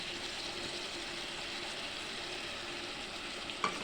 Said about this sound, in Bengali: এবার দেখো কিছুক্ষণ কষাচ্ছি